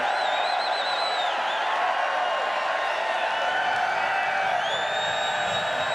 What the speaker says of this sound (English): they can actually tell by the cheering